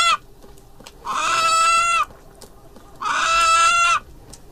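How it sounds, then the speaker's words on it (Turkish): A black chicken with a red comb in a film scene, two drawn-out strident calls each about a second long separated by a quiet gap, loud and close with faint background. "İleride bir tavuk. Siyah tüyleri, kırmızı bir ibiği."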